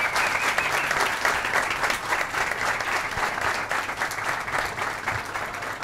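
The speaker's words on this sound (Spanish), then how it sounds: "Lo vamos a despedir con un fuerte aplauso a ellos dos" An audience at a music production workshop gives sustained, even applause for two departing speakers, a close, dense wash of clapping that runs for about six seconds without talk.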